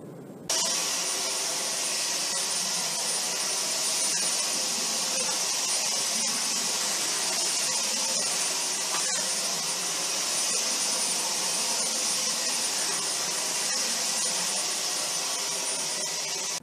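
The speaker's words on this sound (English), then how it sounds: "Movement of this vacuum on hard flooring is excellent." A Dyson Omni-glide cordless vacuum cleaner runs steadily on hard flooring, producing a loud, continuous high-pitched whine and airflow rush that starts abruptly and holds an even level throughout, with no talking.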